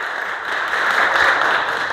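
An audience at a Safety Day program gives sustained applause, a steady wash of many hands clapping together, swelling slightly midway with no talk over it.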